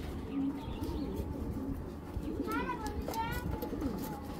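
Mashal breed pigeons coo in soft, rolling bursts close by, with a person talking over the birds.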